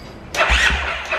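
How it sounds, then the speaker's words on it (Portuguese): A fuel-injected 150 cc motorcycle engine cranks and catches almost at once, a short starter whir bursting into a close, steady mid-pitched idle with a slight blip near the end. "o Biro vai ligar a moto do Baiano agora."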